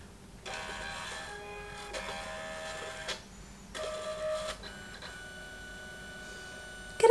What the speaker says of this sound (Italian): Accensione, premere il pulsante di alimentazione per accendere la stampante.